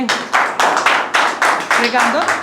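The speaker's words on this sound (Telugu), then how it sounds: "గట్టి క్లాప్స్ కూడా మన శ్రీకాంత్" A burst of loud clapping from a spoken English class audience after a speech, with about eight rhythmic swells of applause and a few voices chattering underneath.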